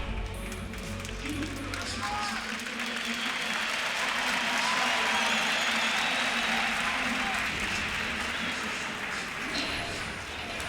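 An esports arena crowd at the EU LCS Summer Finals cheers and applauds in a dense, sustained roar that swells and then holds steady, with voices underneath.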